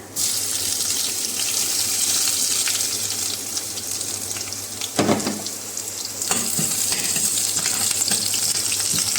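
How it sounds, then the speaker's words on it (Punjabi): Garlic and asafoetida sizzle steadily in hot oil for besan bhurji, a loud continuous fry close up, with a brief clatter of stirring midway and no talk. "ਲਸਣ ਥੋੜਾ ਜਿਹਾ ਭੁੰਨਿਆ ਜਾਊਗਾ"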